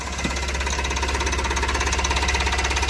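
A Tata Ace Mega XL diesel truck engine with low rail pressure fault code P0087 runs steadily while driving on a road, with a low, rhythmic knocking chug, close and continuous, no voices.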